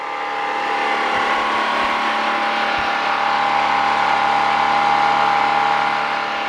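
Small generator engine idling after a carburetor adjustment, a steady, close mechanical drone with a strong hum tone, holding evenly for several seconds.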